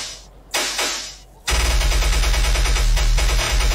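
Loud, aggressive automatic gunfire from Fortnite: two sharp bursts, then a dense, continuous rapid-fire barrage that holds steady to the end.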